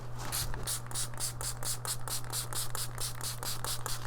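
A spray bottle misting homemade shimmer spray made from marker alcohol ink, giving about a dozen short, evenly spaced bright hissing bursts in a steady rhythm over a low constant hum, with no talking.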